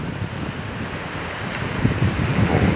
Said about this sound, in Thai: ช่วงนี้ลมค่อนข้าง